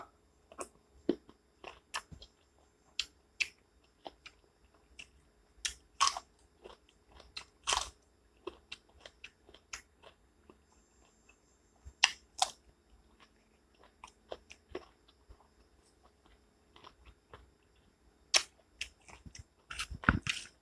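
Crunchy bites and chewing of a spicy Thai salad of giant squid roe with fermented fish sauce, close and quiet, coming in irregular bursts with pauses and no talking.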